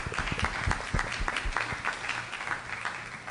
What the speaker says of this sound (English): Round of applause again for the JSO Honor Guard.